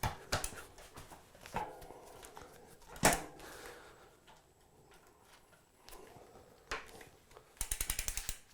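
Bicycle drivetrain being checked, rear derailleur shifting gears with scattered clicks and clacks, then a rapid ticking burst of freewheeling at the end, quiet and close with no talk.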